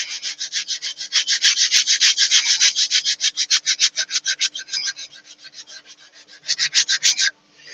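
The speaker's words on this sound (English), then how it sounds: "let's get this quickly rubbed down as near as I can get it." Quick, rhythmic rasping strokes of sandpaper rubbing a turned wooden vase, loud and close, with a short slowdown near the end before stopping abruptly.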